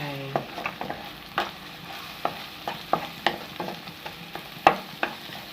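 Egg and gourd stir-fried in a pan, a spatula scraping and clattering in irregular sharp strokes over a soft steady sizzle, close and alone with no talk.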